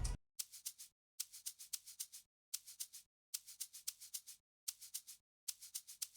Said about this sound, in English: I got the shaker loop from I think his name is Miraculous, his drum kit, and it sounds like this.